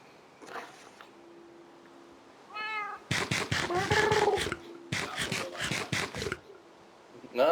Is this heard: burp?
no